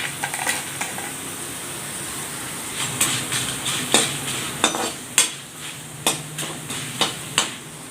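Food sizzles in hot oil with a constant crackle, while a utensil scrapes and clinks against the pan in irregular taps.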